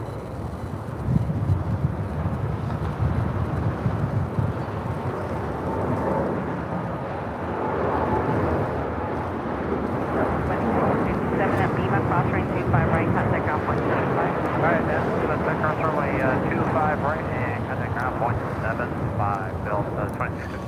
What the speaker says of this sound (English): got a Dreamliner now rolling down 25 right